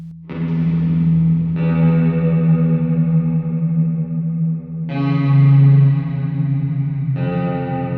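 Sustained guitar chords ring through a deep reverb pitch-shifted down a fifth, long swelling tones that change twice, dark and droning with heavy ambience.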